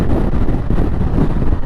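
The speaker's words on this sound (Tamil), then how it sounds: "செம காற்றடிக்குது" Strong wind buffeting the microphone in a steady, loud low roar, beside a road near a highway, with no voices.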